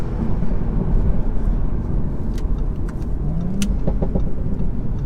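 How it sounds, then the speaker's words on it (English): A Stage 1 Audi S4's exhaust drones loudly and steadily through the whole stretch, a deep continuous engine roar under acceleration with brief higher whines near the end. "Oh, that exhaust sounds lovely."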